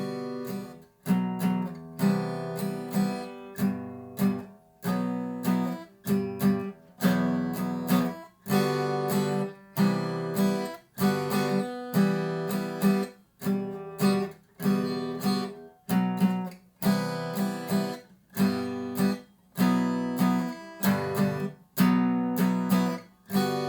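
Guitar plays the ending of a song, a steady strummed chord pattern with regular rhythmic strokes, loud and close with no talking.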